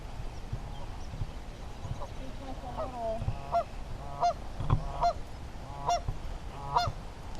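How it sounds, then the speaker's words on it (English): A flock of geese by the St Joe River honks in repeated calls at moderate distance, over outdoor background noise with some low voices nearby. "Oh, there's a bunch of geese."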